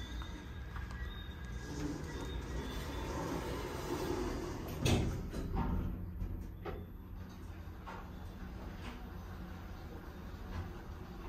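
An Otis Gen2 machine-room-less traction elevator door in a lobby in Aruba slides open and shut with a fast mechanism, giving a low steady rumble with a few clunks in the middle.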